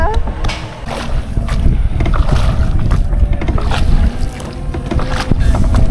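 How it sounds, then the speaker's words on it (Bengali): A boat moves across the water at Purbachal Eco Park, with steady broadband churning and wind rumble filling the whole stretch and voices faintly present underneath. "সিরাত, তুমি নৌকায় উঠে ভয় পাচ্ছ?"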